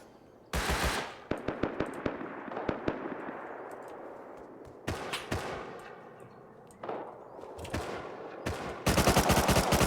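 Bursts of automatic gunfire and single shots ring out in a Rust survival match, with sharp loud volleys at the start and end and scattered cracks between.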